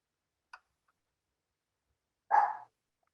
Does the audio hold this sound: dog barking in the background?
yes